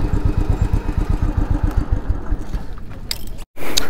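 A motorcycle engine idles and putters steadily up close while the bike is being parked at a tourist spot by the falls, then cuts out abruptly near the end, with a brief burst of other noise afterward.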